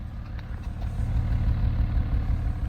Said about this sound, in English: it actually has a really good exhaust note.